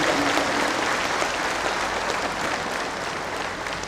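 Steady crowd applause at an outdoor political election rally in Namsai, Arunachal Pradesh, dense clapping from a large audience that stays even and fairly loud for several seconds without speech over it.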